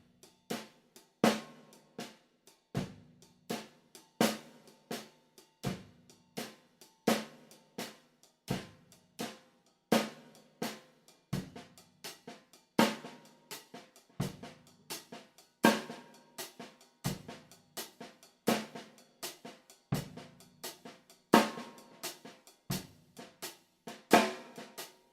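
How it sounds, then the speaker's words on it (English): Drum kit playing a shuffle groove, a bass drum on the one and an accented snare hit on the three, steady repeated strikes with no talking, close and clear. "put a bass drum on the one and an accented snare hit on the three, and just practice the one note combinations first"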